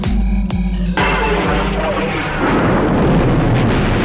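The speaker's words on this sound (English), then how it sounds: "One Alderaan Explosion" A heavy cinematic explosion of the planet Alderaan from a Star Wars film, with a few rapid booming blasts giving way to a loud, sustained roaring rumble that fills the space without any talk.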